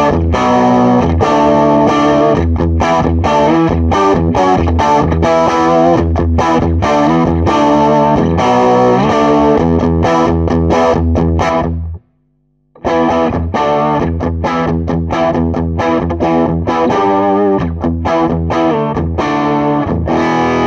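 An electric guitar played through a 30-watt Blackstar Artisan amp with an effect patched in, a loud distorted chorded riff running continuously, broken by one brief silence midway, with no voices.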